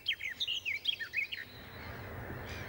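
Small songbirds in spring chirp in a quick series of bright, high twittering notes for about a second and a half, fairly close and clear, then give way to a faint outdoor hush.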